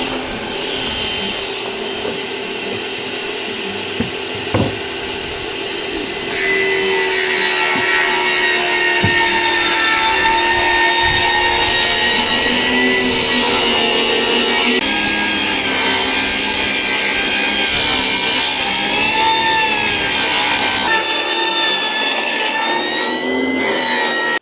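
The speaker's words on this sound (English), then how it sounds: "We're gonna rip a rabbet in this LP." A power saw rips a rabbet along an LP trim board fed past a feather board, a loud, sustained whine that rises as the blade bites and holds for about twenty seconds before dropping off abruptly near the end.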